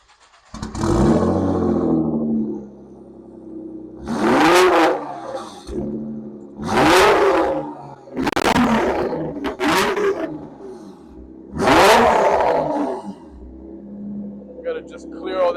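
A Nissan GT-R engine revs hard in repeated loud bursts to blow water from its exhaust, each roaring surge rising and falling with short idling gaps between them, close by.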